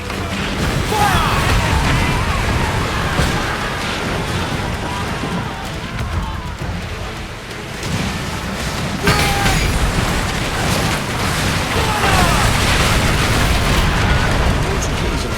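Ship cannons fire broadsides in a naval battle in Assassin's Creed Black Flag, with dense, loud booms and crashes rolling on continuously over the whole stretch while shouted voices come through now and then.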